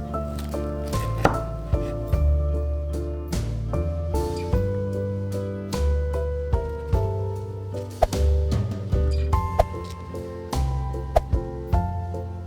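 A knife cuts through warm, still-soft whole-wheat banana biscotti log, giving a series of irregular crisp chopping taps spread through the clip, set against steady background music.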